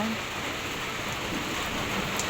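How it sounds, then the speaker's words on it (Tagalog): Dense, steady downpour of heavy typhoon rain from Typhoon Uwan hissing on surfaces at night, loud and unbroken throughout. "Tapos po malakas po ang ulan."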